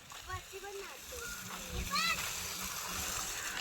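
Well water splashes and sprays over a garden bed as a child waters the plants, a steady wet hiss with brief splashes and faint bird chirps in the background.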